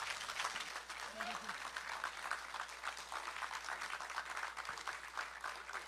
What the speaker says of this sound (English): Professor Kojo, can we give him a standing ovation, round of applause?